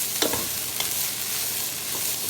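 Browned meat, drained of grease, being stirred with onions in a pot for a copycat zuppa toscana soup: a continuous close sizzle with a few scraping stirs near the start.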